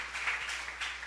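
Brief burst of congregational applause offered to the Lord during a church service, a dense patter of many hands that swells and fades in short waves.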